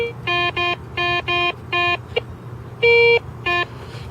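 Metal detector tones signalling a coin buried underground, a series of short, loud electronic beeps in an uneven rhythm, with one longer steady tone near the end, close and clear over faint background noise.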